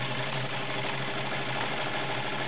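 A Kenmore 1750 heavy-duty sewing machine runs a zigzag stitch, giving a steady, close mechanical whir with a fast, even needle rhythm throughout.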